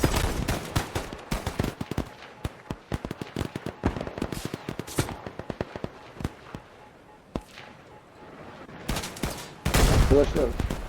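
Rocket launcher fire in the Roblox Iron Man simulator game, dense rapid bursts of sharp blasts and explosions crowding together, thinning out midway, then a loud burst at the end, with occasional voice.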